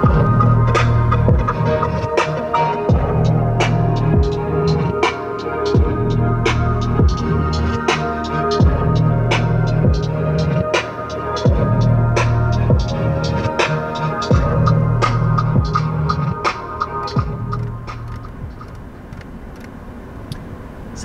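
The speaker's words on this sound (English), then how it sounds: "standard on the S-Class is going to be a 590-watt 13-speaker Burmester sound system" A 590-watt 13-speaker Burmester sound system in a 2020 Mercedes S-Class plays a music sample with a steady pulsing bass beat and crisp percussive hits, moderately loud inside the cabin, with no talk.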